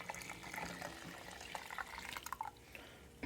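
Water runs and splashes into a bucket being filled to make a brine for meat, a faint, steady trickle with small drips and splashes, no voices.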